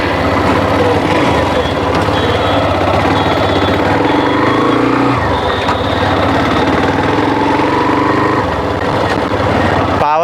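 A Hero Xtreme 125R 125cc motorcycle runs during a ride test while carrying about 200 kg, its engine giving a loud, continuous, rough drone with a brief dip midway before steadying again.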